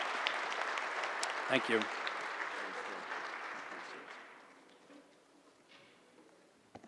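A conference audience at a regional affordable housing forum applauds a panel, dense clapping that gradually fades out, with a brief spoken thanks partway through.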